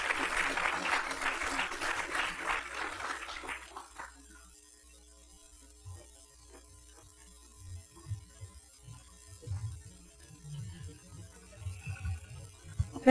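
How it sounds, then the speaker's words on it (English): Audience applause for panel speaker Peggy Troy at a violence prevention meeting: a few seconds of steady clapping from a modest crowd that stops abruptly, leaving a quiet room with faint low murmurs. "if we can give her a round of applause"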